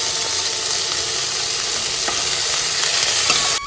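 Onion, ginger, garlic and green chili fry in a pan for a fish curry, giving a steady, close hiss of sizzling oil with occasional stirring scrapes throughout.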